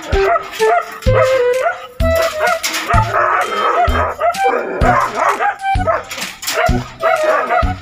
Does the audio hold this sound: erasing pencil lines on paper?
no